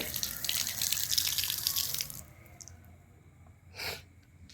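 Steady broadband rush of water running from a washing machine tap for about two seconds, then it stops, followed by quieter room sounds and a brief soft burst.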